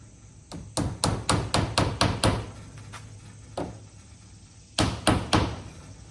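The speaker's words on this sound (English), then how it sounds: "And then you just start nailing them in." A hammer drives nails into a garage door bottom seal, a quick run of about nine sharp, close blows, then a single strike, a pause, and three more blows.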